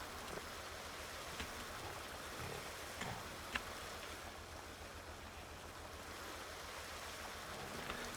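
Steady rushing water filling a pig trough in Farming Simulator 19, a continuous broadband wash with a few faint clicks, moderately quiet and without talk.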